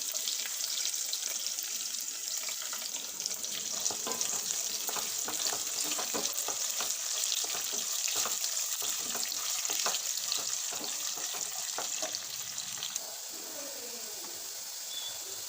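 Slit green chillies and dried red chillies sizzle in hot oil for a carrot fry, a continuous crackling fry with bursts of sharp pops and some stirring, and no voices.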